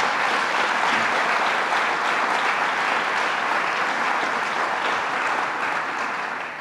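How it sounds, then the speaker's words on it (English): A large audience at a governor's grand-opening event for a regional welcome center breaks into steady, dense applause, a continuous loud wash of many hands clapping that holds for several seconds before tapering slightly. "Let's give them a round of applause."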